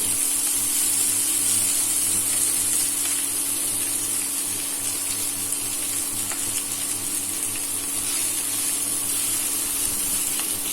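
Fenugreek leaves frying on a high flame give a steady, loud hiss and sizzle that runs unbroken throughout, with a low hum beneath.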